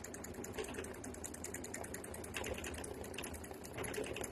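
An embroidery machine stitches steadily, giving a fast continuous whirring and rattling hum at a low, even level with no talking.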